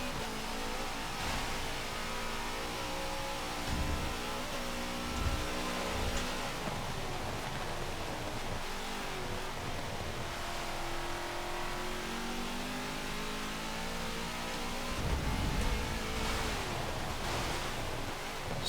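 Race car engine in Forza 7 endurance racing, driving through corners with a steady, loud revving drone whose pitch rises and falls through the bends, alongside a constant hiss of road and tyre noise.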